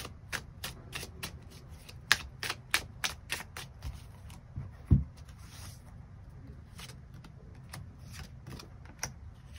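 Tarot cards shuffled by hand, a steady run of crisp riffling flicks and soft slaps repeating quickly and close up, with no talking.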